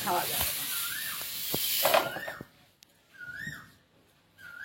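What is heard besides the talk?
drumsticks frying in oil in a wok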